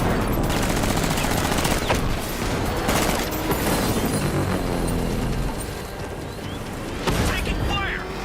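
Sustained automatic gunfire and heavy bursts from Batman Arkham Knight, with explosive booms mixed in, loud and dense throughout the battle alongside game voices.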